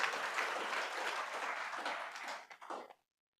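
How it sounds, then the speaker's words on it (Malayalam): Audience at a platinum jubilee inauguration applauding, a fairly faint, dense patter of clapping that holds steady, then tapers into a few last claps and stops abruptly. "എല്ലാവർക്കും കൂടി ഇന്ന് കൈയടിച്ച് ഒരു നന്ദി പറയാം."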